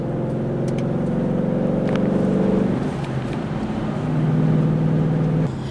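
A Ford Mustang GT convertible drives with a steady low engine drone that drops briefly as it shifts, then picks back up, loud and close with no talking.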